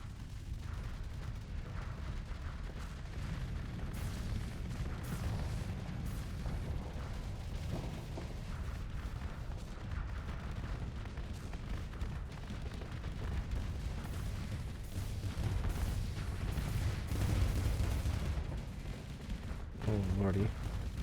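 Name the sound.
missile weapons firing and hitting in Starsector video game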